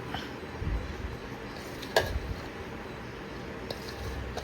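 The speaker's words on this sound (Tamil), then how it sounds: "இப்போ முந்திரி பருப்பை கலந்துக்கிறேன்" Steamed, crumbly rice flour puttu is stirred with cashews in a pan, giving soft, faint scraping and stirring sounds with one sharper scrape of the utensil midway.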